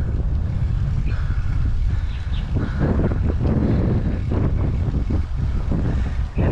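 Strong wind buffets the microphone during a motorbike ride past tea fields, a loud, continuous roaring rumble that fills the whole stretch with no talk over it.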